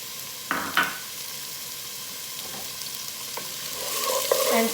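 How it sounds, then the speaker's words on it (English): Chopped onion sizzles in a hot pan while it cooks down for a roasted bell pepper soup, making a steady moderate hiss. Two sharp scraping stirs come early, a few lighter taps follow, and the sizzle grows louder toward the end with no talking. "Now I am going to add chopped onion."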